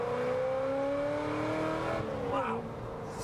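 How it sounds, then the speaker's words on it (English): A loud, brash car engine revving hard, a rising whine that climbs steadily and then drops as it shifts and surges again, close and continuous with no talk. "this car is very loud, it's very brash"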